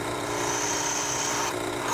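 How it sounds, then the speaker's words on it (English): A power drill whines steadily with a grinding, rasping texture, drilling holes in steel for a bed frame, its high tone cutting out shortly before the end. "I have to drill a whole bunch of holes."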